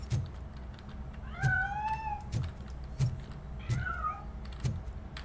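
Cat meowing in a video game, two drawn-out rising meows standing clearly over a steady game background with periodic low thumps.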